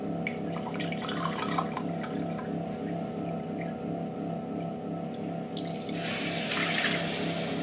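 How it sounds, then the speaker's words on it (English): Water pours into a pan of baklava syrup in a home kitchen, a steady trickling splash under faint clinks, with a brighter, rushing pour near the end. "what I'm going to do is add 1 cup of water"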